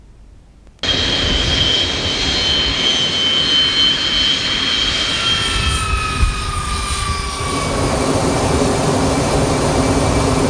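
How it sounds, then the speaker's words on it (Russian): Yak-42 jet airliner landing at dusk in light rain at Bryansk International Airport, then taxiing toward the terminal, a loud steady jet roar with whining tones that slide down in pitch and then settle, close and continuous. "Як-42 легко сел на подготовленную полосу и подрулил к зданию аэровокзала."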